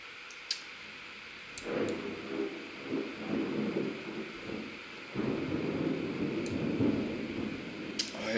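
A thunderstorm in Euro Truck Simulator 2 rolls in low, rumbling waves of in-game thunder. Sharp clicks and ticks are scattered over it, and the background stays fairly quiet between the swells.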